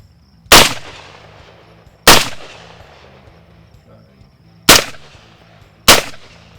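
Four sharp, loud gunshots from a firearm loaded with Detroit Ammo Co. ammunition ring out at a range, spaced a second or more apart, each with a short fading echo tail and quiet gaps between.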